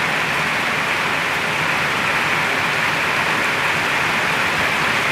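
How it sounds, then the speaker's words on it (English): Steady rain falls outdoors in Puna as a dense, constant hiss of drops on surfaces, loud and close, with no voices and no breaks. "I intentionally positioned where the rain was falling so you could hear it"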